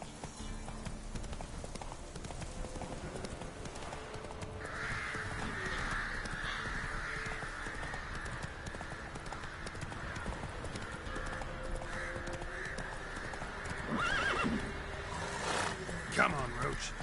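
The horse Roach gallops in a video game with steady clip-clop hoofbeats, a whinny and crow caws mixed in, while a man urges the horse on over the game sound.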